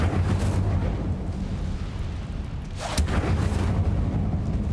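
Incendio fire spell cast in a wizarding video game, a loud fiery burst with a sharp crackling flare near the three-second mark over a steady rumbling game background.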